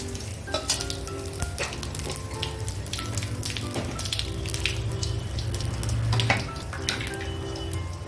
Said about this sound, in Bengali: তেলের মধ্যেই আমি একটুখানি জিরা দিয়ে দেবো, তেজপাতা দিয়ে দেবো একটা ছোটো